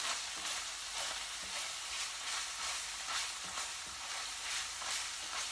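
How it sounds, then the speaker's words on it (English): Steady crackling sizzle of minced meat browning in a hot pan, with faint stirring scrapes, close and continuous with no talking. "It's browning the mince."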